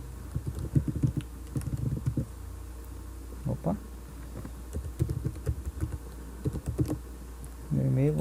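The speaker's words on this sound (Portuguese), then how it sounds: "Agora eu vou digitar o meu e-mail." Rapid clicking of computer keyboard keys as an email address is typed, close and clear, in bursts with short pauses, and a brief voice near the end.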